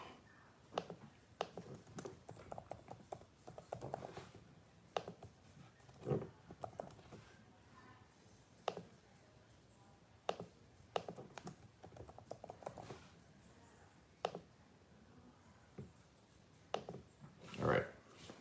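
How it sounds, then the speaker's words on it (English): Typing on a computer keyboard during a Saturday morning live stream, with scattered bursts of soft clicks and louder single key taps, faint and close, with brief pauses between bursts. "Y'all sitting there waiting on a Saturday morning watching me type."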